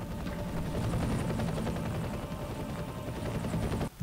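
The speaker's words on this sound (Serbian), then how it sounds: "Možda je neprijateljski helikopter." An enemy helicopter in the shooter game F.E.A.R. thumps with a loud, continuous rotor chop and engine drone. It holds steady almost to the end, then drops briefly with a small knock.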